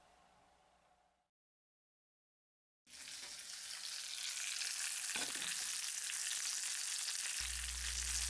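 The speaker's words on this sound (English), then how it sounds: "Then it goes back into the oven to roast at 500 degrees for 25 minutes." Pork belly roasting in a 500-degree oven gives off a loud, dense, continuous sizzle after a brief moment of silence, with a low hum joining near the end.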